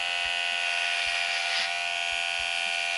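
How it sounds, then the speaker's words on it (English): Trusty electric hair clippers cutting damaged hair, a loud steady high buzz running throughout with faint irregular low bumps as the blades move through the hair. "Here we are, my trusty clippers."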